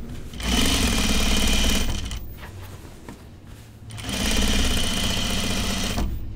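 A sewing machine runs two bursts of rapid, steady stitching along a seam on men's pants, close and loud with a short pause between runs and no talk.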